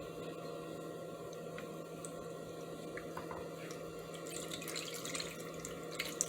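A mix of lemon juice and water is poured into a tray in a home kitchen, giving a soft steady splashing trickle with a few scattered drips and a quiet constant hum underneath.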